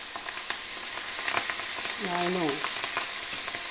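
Curry leaves crackle and sizzle in hot oil for a tomato pickle, a steady broadband hiss with sharp pops, and a brief voice speaks over it near the middle.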